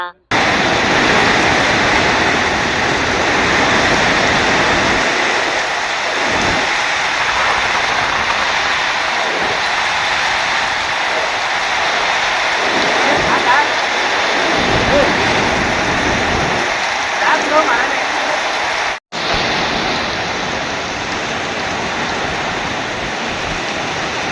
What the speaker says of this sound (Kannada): ಹಲವಾರು ಹಳ್ಳಿಗಳಲ್ಲಿ ಚಳಿಗಾಲದಲ್ಲಿ ಭಾರಿ ಮಳೆ